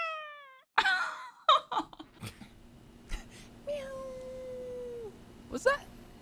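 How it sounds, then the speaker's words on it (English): A cat meowing in a short cartoonish cry that sweeps down in pitch, set among scattered bumps, speech and laughter, with a later drawn-out tone. "Her meow was so cartoony"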